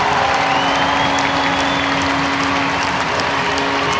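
A packed arena crowd at a Sheffield Steelers v Dundee Stars EIHL ice hockey game roars and applauds after an equalising goal off the crossbar, a dense, steady wall of cheering that stays loud throughout.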